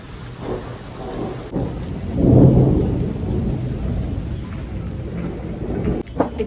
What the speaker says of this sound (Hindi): It's raining right now and I'm freezing literally